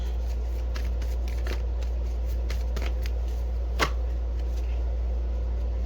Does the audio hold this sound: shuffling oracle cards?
yes